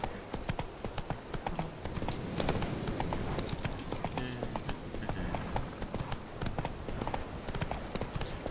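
In The Witcher 3: Wild Hunt, the horse Roach gallops steadily, a continuous rapid clip-clop of hooves in a fast rhythm over a low ambient background.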